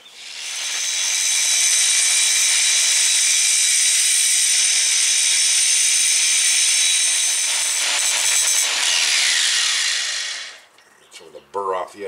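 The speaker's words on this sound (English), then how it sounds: "So we're going to need to grab a grinder." Grinder deburring the damaged edge of a brake part on a 2005 Land Rover LR3: a loud, close, continuous high-pitched grinding whine for about ten seconds, then it cuts off and a voice speaks briefly.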